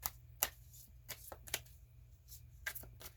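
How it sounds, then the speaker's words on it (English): A deck of oracle dragon cards is shuffled by hand in quiet, with a string of crisp riffling bursts and soft card slaps at an uneven pace, close and fairly faint. "These are so good to shuffle."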